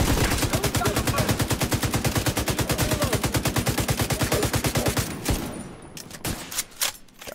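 Rapid automatic gunfire in the shooter The Division 2, a loud steady burst of evenly spaced shots lasting about five seconds, then a few scattered single shots and impacts trailing off.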